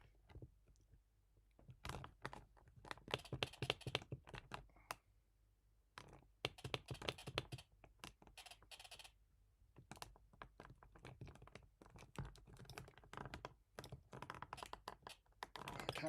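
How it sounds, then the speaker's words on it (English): Joystick clicking and squeaking during play of a ZX Spectrum game: dense bursts of small plastic clicks and scratchy rubs, close and fairly quiet, in irregular flurries with short pauses, no voice over them. "Probably hear the joystick clicking and squeaking as I'm trying to fight my way"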